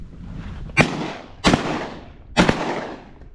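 Three loud shotgun blasts fired at ducks during a bird hunt, spaced about a second apart, each a sharp crack with a decaying outdoor echo, with no talking.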